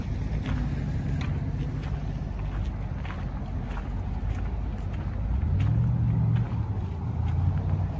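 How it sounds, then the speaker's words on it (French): Cars rolling into a classic car gathering at an outdoor square: a low, continuous engine rumble with heavy wind buffeting, a deeper passing drone swelling near the end, no talk. "Il y a beaucoup de voitures qui reviennent, comme bien souvent."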